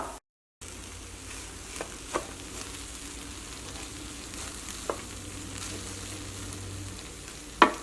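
Cooked rice being stirred and mixed in a pan, a faint, steady sizzle under soft scraping, with a few light taps of the spoon against the pan, close and without talk.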